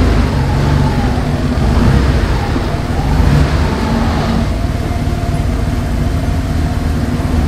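A Porsche 911 Carrera 3.2 Targa engine runs at low revs as the car rolls into a hall, a steady close-up flat-six drone with slight surges, loud and continuous.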